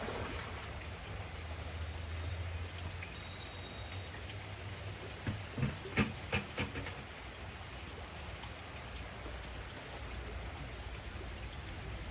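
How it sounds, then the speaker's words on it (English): Steady rain falling outdoors beside a newly started backyard pool, a continuous even hiss with a brief cluster of louder drips or splashes midway, no voices. "Thanks for hanging in there with me despite the rain."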